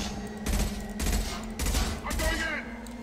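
Gunfire in Mass Effect 2 arrives in four loud bursts of rapid shots about half a second apart, with a steady hum beneath and a little voice mixed in.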